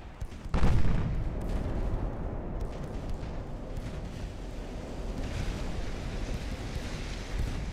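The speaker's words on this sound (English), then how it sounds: "Still a lot of accuracy issues with the big guns." Big naval guns firing in the game Ultimate Admiral: Dreadnoughts, one heavy booming report near the start that rolls into a long rumbling wash of wind and sea noise, no talking.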